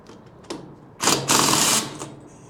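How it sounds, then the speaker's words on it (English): Bolts threaded in to pull the clutch driver off a 1929 John Deere GP tractor, a few quick whirring bursts from a power tool, the longest lasting about a second, close and loud with no talk. "You just thread bolts into those holes and it pulls the clutch driver off."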